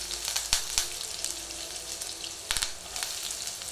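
Curry leaves hitting hot oil with mustard seeds in a pan for a broad beans fry, giving a steady bright sizzle with a few sharper crackling pops, alone and fairly close.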